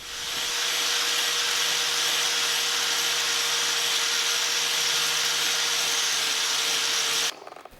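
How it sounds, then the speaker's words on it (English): Angle grinder with a wire brush attachment scrubbing rust off 20mm steel rebar, a loud, steady, harsh whirring rasp running unbroken for about seven seconds before cutting off abruptly. "I used a wire brush attachment on my angle grinder, which cleaned these up nicely."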